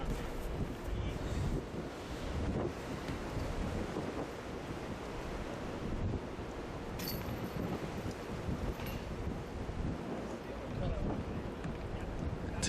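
Wind blows across a golf course, a constant broadband rush and microphone buffeting that fills the whole span at moderate level.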